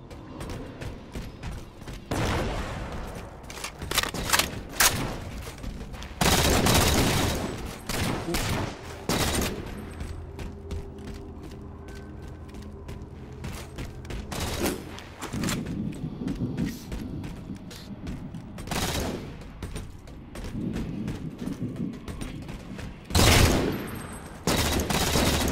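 Gunfire in a Halo 4 SWAT match, with loud, close bursts and rapid volleys going off irregularly throughout and short lulls between clusters of shots.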